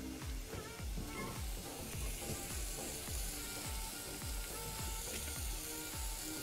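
Food sizzles steadily in a hot pan in Iraqi home-style cooking, a continuous close frying hiss with rhythmic clicking of stirring or scraping running through it.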